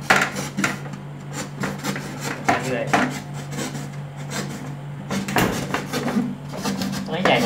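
Rough, rhythmic rasping of a saw cutting a hole in a T-bar ceiling board for a 4-inch downlight, repeated strokes close by, with someone talking briefly over the work.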